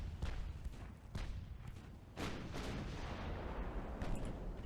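Heavy battleship main guns booming in the naval warfare game Ultimate Admiral: Dreadnoughts, several deep thumping blasts spaced a second or so apart over a constant low rumble of engine and sea noise.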